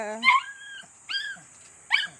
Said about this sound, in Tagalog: Gutom na gutom na po ang aming aso